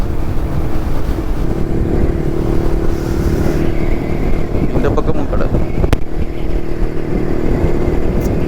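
A steady vintage Jawa 250cc motorcycle engine thrums continuously with wind rush as the bike cruises along, while someone speaks briefly over the noise.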